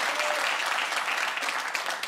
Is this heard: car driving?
no